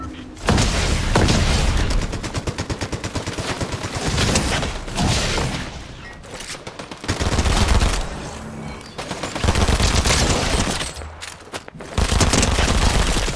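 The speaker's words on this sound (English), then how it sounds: "Gwenpool's dual micro SMGs. I'm gonna see how good these are" Rapid, loud bursts of Gwenpool's dual micro SMGs firing in Fortnite, dense automatic chatter repeating in several long strings with short gaps, mixed with game noise and impacts.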